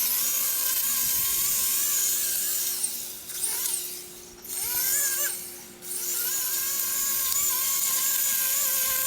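An EGO edger powerhead with a new generic blade runs at a steady high whine, close by, dipping twice as the blade bites into dirt before returning to full speed.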